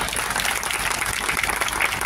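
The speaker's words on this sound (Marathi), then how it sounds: "होऊन दे टाळ्या बघा" Crowd applause at a political rally, a loud, steady wash of many people clapping throughout the moment.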